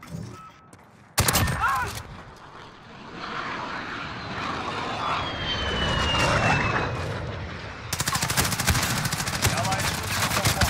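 A friendly VTOL aircraft in a military shooter video game roars overhead with a whooshing engine, while bursts of rapid gunfire crackle loudly at the start and end.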